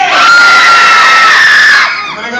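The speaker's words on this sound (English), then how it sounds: "give me your absolute loudest scream" Audience members at the Universal Studios special effects stage scream together at full volume on cue, a dense sustained crowd shriek lasting about two seconds before trailing off.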